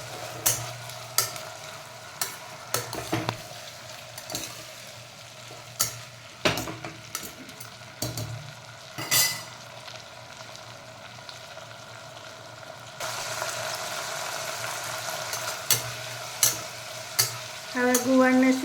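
Cluster beans (guvar) fry in oil in a pan, a continuous soft sizzle broken by repeated stirring scrapes and clicks of a spoon, with a brighter burst of frying near the end, close and without talk.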